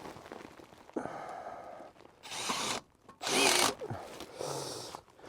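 Power drill driving screws into sheet-metal HVAC ductwork in a few short whirring bursts of rising and falling loudness, with brief pauses between them.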